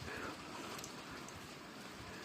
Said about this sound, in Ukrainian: Тут вже дощ іде.